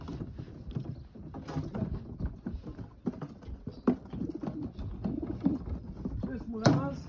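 Racing pigeons of the Janssen De Klak line coo softly in a loft. The low, continuous murmur comes with small clicks and rustles and one sharper flutter near the end.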